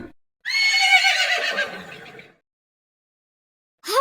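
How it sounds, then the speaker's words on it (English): A horse lets out a loud, close whinny lasting almost two seconds, falling in pitch, with silence around it and another neigh starting at the very end. "horse"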